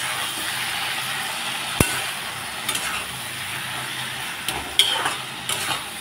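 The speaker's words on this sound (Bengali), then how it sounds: "এখন সরষার সাথে আমি সবজিটাকে ভালো করে কষিয়ে নেব" Vegetables and shrimp sauté with mustard paste and tomato spice paste in a pan, giving a continuous moderate sizzle with occasional sharp knocks and scrapes of a spoon against the pan.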